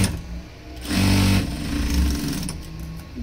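A sewing machine joins a folded neck strip onto a size 38 four-tuck blouse, running in loud uneven spurts of rumbling motor and needle clatter with brief slowdowns between bursts, with no voice over it.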